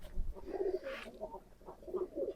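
Pigeons coo softly in a low, throaty rhythm, several short burbling calls repeating close by at a pigeon farm.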